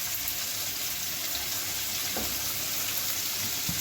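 Bacon frying in a pan gives a steady, close, fairly loud sizzle that holds throughout with small crackles and no talking.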